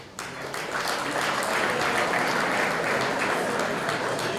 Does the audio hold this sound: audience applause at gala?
yes